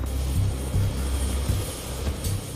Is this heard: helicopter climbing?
yes